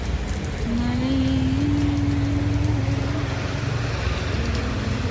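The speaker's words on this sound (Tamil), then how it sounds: "மழை பெய்கிற மாதிரி இல்லை, எவனா டேங்க் அவுத்து விட்ட மாதிரி இருக்கு." Heavy downpour drumming steadily as a dense, continuous wash of noise, loud and close throughout, with a faint low tonal hum running beneath it.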